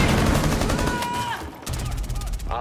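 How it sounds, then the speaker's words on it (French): Gunfire from the Rainbow Six Siege video game during a hard Terrorist Hunt on the Herford Base map: dense, loud bursts of shots with a brief lull midway, under faint background voices. "Je sais pas comment t'as fait un headshot, Marie."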